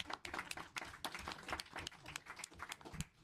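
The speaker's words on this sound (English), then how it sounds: "So give him a nice round of applause." A round of applause at a New York City Council subcommittee meeting, scattered hand claps from a modest group, uneven and fairly faint, heard without talk.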